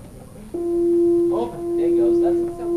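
Two sustained electronic tones of slightly different pitch combine into a pulsing wah-wah interference beat at about one throb per second, swelling and fading rhythmically after a sudden onset, loud and close with no talking.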